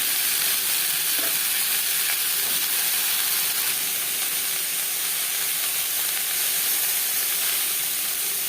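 Steady, hissing sizzle of pointed gourd (potol) frying in oil with salt and turmeric, a constant close crackle that continues unbroken without talk.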